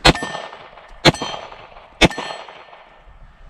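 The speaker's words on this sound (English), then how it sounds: "MGM gong." Shots striking an MGM steel gong target, three sharp metallic clangs about a second apart, each ringing out with a bright decaying tone, loud and alone.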